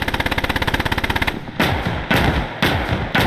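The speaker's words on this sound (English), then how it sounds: "It's also got dual 50 calibers." Dual .50 caliber machine guns mounted on a CGMC M15A1 armored anti-aircraft vehicle in Call to Arms fire a fast, loud burst of rapid rounds, followed by three heavier booming shots spaced apart.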